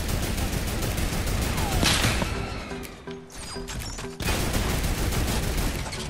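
Mounted turret fire in Fortnite: a steady stream of rapid, heavy shots hammering loudly, briefly dropping out for a moment before the rattling barrage resumes at full force.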